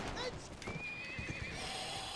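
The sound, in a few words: horse neighing in a video game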